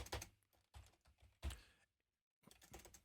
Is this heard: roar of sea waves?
no